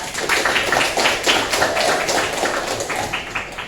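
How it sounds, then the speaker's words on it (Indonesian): Students at a vocational school session clap their hands together in a loud, close burst of sharp, fast claps that fills the whole moment. "Terima kasih, tepuk tangan"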